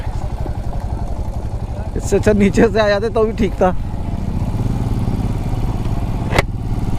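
A motorcycle ridden along a rough dirt track, its engine a steady close rumble with rattling and clatter throughout, while someone talks briefly over it in the middle.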